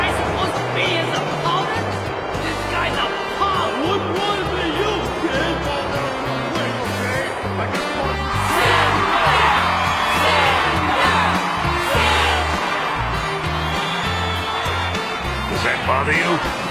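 A boxing arena crowd cheering for the fighter Ippo, a dense roar of whoops and yells swelling steadily in the background while people talk over it.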